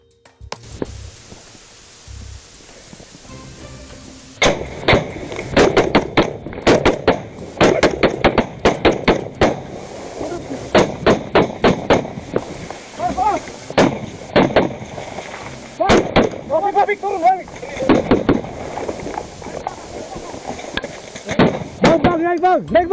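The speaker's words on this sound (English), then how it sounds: "Обе группы продолжают перестрелку, и звуки выстрелов разносятся по джунглям." Gunfire echoes through the Colombian jungle as rival groups trade shots in a cartel shootout. Sharp, irregular cracks come in rapid bursts after a quiet start, with shouted voices mixed in between the shots.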